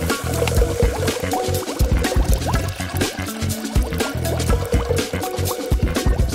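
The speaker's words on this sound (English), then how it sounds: "And then pour on some resin." Resin poured over Orbeez in a small DIY pet habitat gives a continuous wet, dripping and squishing liquid sound, close and fairly loud throughout.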